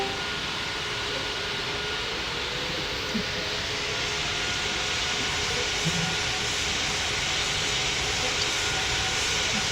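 An aircraft in the Roblox game Pilot Training Flight Simulator roars on takeoff, a steady broad engine rumble with a faint whine that holds evenly throughout and no talk over it.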